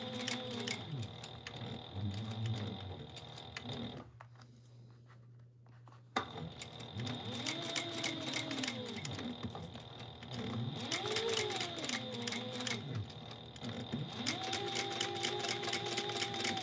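A sewing machine stitches fabric along a quarter-inch seam in steady runs with a brief pause midway, its whirring motor and rapid needle ticking close and continuous, with no talking.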